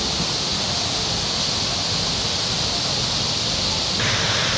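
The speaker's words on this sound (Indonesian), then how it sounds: "Ya itu air terjun atau Riam Jugan ya, sangat indah." The Riam Jugan waterfall near Sanggau Ledo, Indonesia, gives a steady, loud broadband rush of falling water, unbroken throughout with no speech over it.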